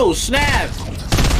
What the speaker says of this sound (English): They're shooting the cube